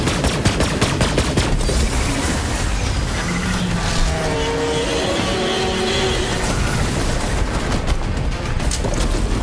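Gunfire from Maya in Borderlands 3 rattles in rapid, loud bursts mixed with heavy booms and crashing debris, continuing almost nonstop throughout.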